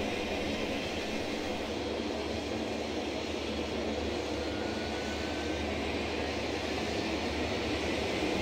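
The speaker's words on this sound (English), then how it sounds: "Engine number 2 starting." A Dash 8 turboprop in a flight simulator with engine number 2 spooling up, a loud, steady, broad roaring drone with a faint rising whine, continuous and close throughout.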